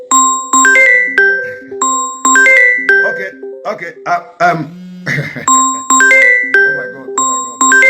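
Phone ringtone chiming in repeated bright melodic ding patterns during a live Facebook broadcast, loud and close, cutting in between bursts of a man's speech.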